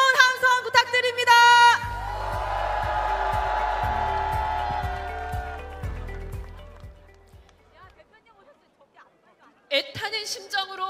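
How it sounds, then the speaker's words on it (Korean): A large crowd at an opposition rally in a public square, protesting Yoon Suk-yeol's release, roars and whoops in a sustained cheer after a brief voice. The cheer swells, fades away, and then talk resumes. "여러분 뜨거운 함성 부탁드립니다."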